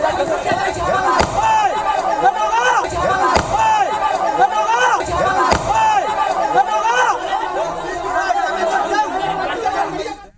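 Sharp gunshots crack out several times over a loud, agitated crowd of shouting voices during a clash between two groups in Morena, the shots standing out as sudden bangs.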